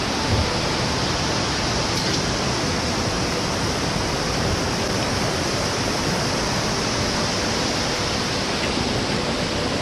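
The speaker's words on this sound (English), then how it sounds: "Crossing the Catuga River" Catuga River rushing during a backpacking crossing in the South Carolina foothills, a steady loud broadband roar of flowing water that stays constant and close throughout, with no voices.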